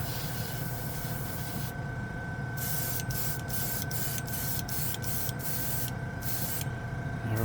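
An airbrush sprays paint onto a plastic spoon, a steady close hiss of air and spray that runs throughout, broken by several short on-off bursts in the second half as the trigger is worked.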